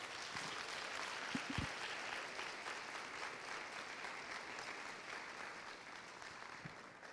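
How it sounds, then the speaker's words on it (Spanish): Church congregation applause, continuous and fairly faint across the clip, with a few louder thumps near the start and a slight fade toward the end. "Dele un aplauso a Jesucristo"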